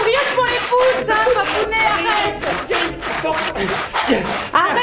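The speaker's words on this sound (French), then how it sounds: "ça coupe pas avec un couteau, donc j'ai obligé de sortir la scie." A saw rasps back and forth through a stale, rock-hard homemade brioche, a loud, steady run of rough scraping strokes close by, with a few faint voices in the background.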